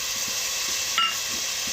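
Cubes of taro root (chamadumpa) frying in a pan, a steady dense sizzle and hiss close up, with a faint clink near the middle and no talk.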